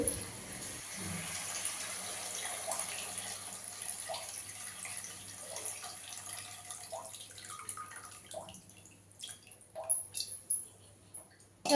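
Water trickles and drips into a pot of fish curry on the stove, soft splashing and faint pouring sounds in a quiet kitchen, growing a bit louder near the end.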